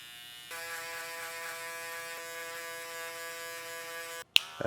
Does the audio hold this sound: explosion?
no